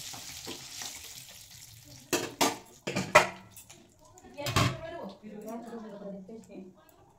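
Giant freshwater prawns frying in hot oil in a pan, with a low sizzle punctuated by sharp spattering bursts and clattering as they are moved, close, while a person talks over it.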